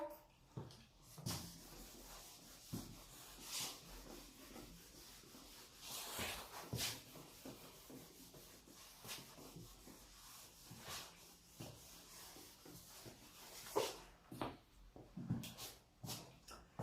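A written board is rubbed clean during a chemistry solutions lesson, with faint, soft repeated rubbing strokes and occasional bumps. The passage stays quiet and wordless, with light background noise.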